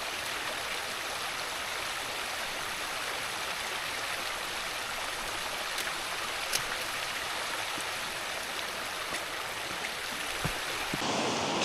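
A waterfall pours in the Lofoten Islands of Norway near Sorvagen, a steady broadband rushing roar that stays constant and close for the whole stretch, with no voices over it.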